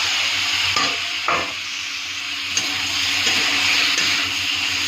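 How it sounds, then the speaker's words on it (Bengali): Potatoes and vegetables fry in a pan with a constant loud hiss and sizzle, broken by a few brief scraping stirs. "একটু ভাজা ভাজা করে নেব।"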